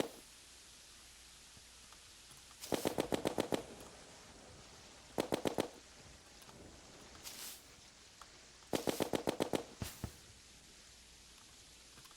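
Video game gunfire comes in short rapid bursts of several shots each, three main volleys with single sharp shots between, fairly close and crisp over a quiet background.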